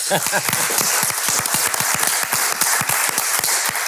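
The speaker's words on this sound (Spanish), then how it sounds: "Pues muchas gracias y un aplauso para los dos Antonios" A conference audience at a session on cooperative multilevel governance and land planning applauds two speakers with crisp, distinct claps building into steady applause, while a voice speaks briefly at the start.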